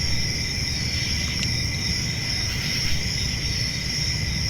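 Crickets chirp in a steady, continuous high-pitched drone over a low background rumble, with no speech.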